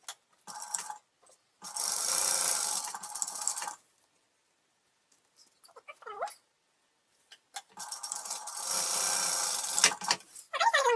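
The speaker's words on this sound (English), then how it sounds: "So I'm only sewing along the top of these" A sewing machine stitches along the top edge of a small fabric tote bag in two sustained runs, separated by quiet pauses with brief faint voice sounds.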